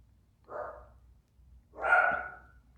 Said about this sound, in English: You may be hearing my silly dogs.